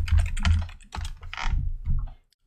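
Computer keyboard typing, close and clear, with several quick bursts of key clicks separated by short pauses, fading to silence at the end.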